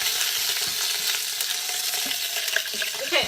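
Meat searing in the hot pot of a quick cooker, a continuous close, loud sizzle with occasional spatula scrapes.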